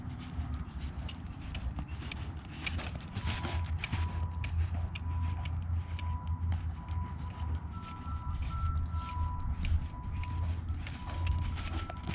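A horse cantering during an exercise physiology session, its hoofbeats a steady, rhythmic clip-clop that runs throughout over a continuous low rumble and background noise.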